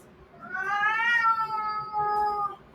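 A house cat lets out one long, drawn-out meow that rises and falls, close and clear, followed by a second shorter wavering cry, with no talking.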